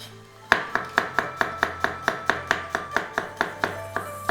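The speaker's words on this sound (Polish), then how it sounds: "czosnek kroimy na cienkie plasterki" Garlic cut into thin slices with a knife on a cutting board, a steady run of about eighteen crisp, evenly spaced taps at close range, with no voice.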